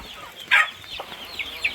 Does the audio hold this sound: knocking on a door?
no